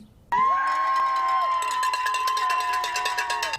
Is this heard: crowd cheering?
yes